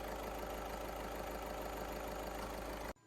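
A Skoda Octavia engine idles steadily indoors with a low, even rumble, close up, then cuts off at the end.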